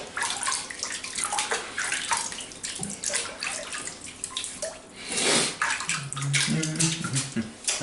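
Warm water runs from a tap into a basin with a steady splashing rush and some dripping and gurgling, fairly close and continuous.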